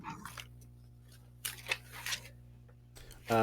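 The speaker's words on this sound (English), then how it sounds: "Someone's shuffling papers and making lots of noise" Papers rustle and shuffle in scattered bursts over a steady low electrical hum, ending with a louder burst of noise.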